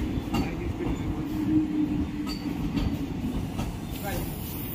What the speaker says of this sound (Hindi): ये गाइस उधर से ही और एक ट्रेन आया है